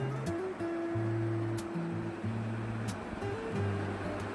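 Full river water of the Saraswati rushing through three opened dam gates, a steady broadband roar with tonal hum running throughout, no speech.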